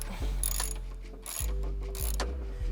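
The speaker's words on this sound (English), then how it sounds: "just undo these 3 12mm nuts" A hand ratchet loosens 12mm strut nuts on a Subaru BRZ with several quick rhythmic clicking runs, close and clear, separated by short pauses.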